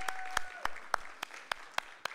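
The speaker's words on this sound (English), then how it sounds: "So, you know, applaud them all the way up." Audience at a BlackLit Durham live event applauding performers on their way up to the stage, sparse separate claps landing in a slow uneven rhythm, moderately close, with a faint tone underneath.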